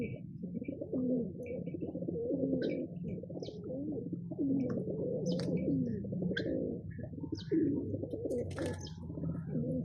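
Several pigeons coo in soft, overlapping rolling calls close by, with a few light chirps and flutters, and no one speaks.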